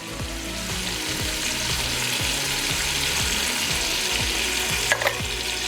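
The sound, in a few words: stirring chopped pepper frying in a pot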